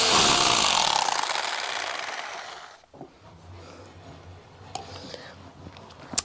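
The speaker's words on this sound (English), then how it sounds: "what is the process that I'm doing with this SDS?" An SDS drill chisels out mortar joints in a wall, a harsh continuous rattling grind that runs loud for a few seconds and then stops, followed by quieter scraping and knocks.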